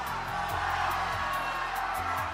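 Studio audience on The Price is Right cheering and whooping in a steady, loud roar of crowd noise, with music tones running underneath.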